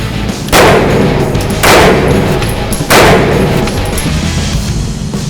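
Three loud handgun shots fired at a target 10 yards away, evenly spaced a little over a second apart, each a sharp close blast with a short ring-out. No one speaks.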